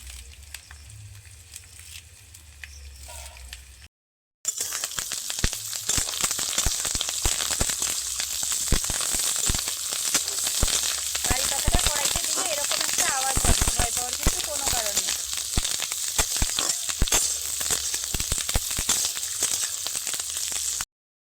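Peanuts and curry leaves fry in hot oil in a kadai, a bright, busy sizzle full of crackles and spits that starts abruptly after a quieter opening and continues steadily up close, with a voice speaking over parts of it.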